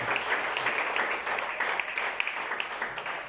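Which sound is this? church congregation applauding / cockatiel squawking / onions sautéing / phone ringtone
church congregation applauding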